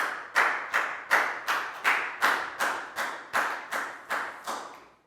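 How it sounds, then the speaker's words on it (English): A classroom of students claps in unison for a classmate, twelve crisp, evenly spaced group claps in a steady rhythm that fade slightly toward the end, close and loud with no talking. "High five and a big round of applause for Prel."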